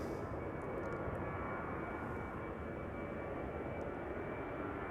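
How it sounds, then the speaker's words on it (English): A KLM airliner bound for Stockholm rolls for departure at Schiphol, giving a steady, loud broadband roar of jet engines that holds unbroken throughout with no voices. "KLM flight 1219, there it is, going to Stockholm. On the move already."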